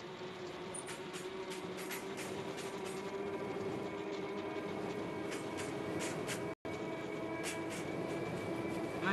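A train rolling along in the RG Train Tech Demo video game, a low steady rumble with a sustained hum and periodic faint higher clatters, quiet and continuous with one brief dropout, no voices.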